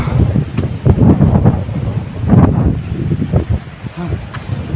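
Strong wind on Fortune Island gusts and rumbles against the microphone in heavy irregular bursts, loud and close, with a few faint rustles between gusts.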